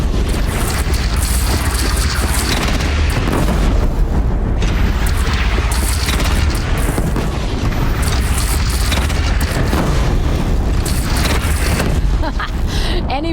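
Cannon fire booms through a Horizon Zero Dawn gameplay battle, a dense and loud barrage with repeated blasts over a continuous rumble. Voices speak now and then over the noise.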